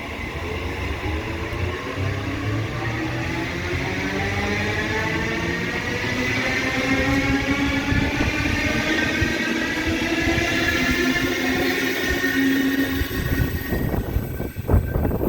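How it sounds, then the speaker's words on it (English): A train departing the platform at Denistone station, a loud, steady electric drive whine that rises in pitch as the train pulls away, with rumble continuing throughout. "now departing platform 2, Golden Vice Central Service"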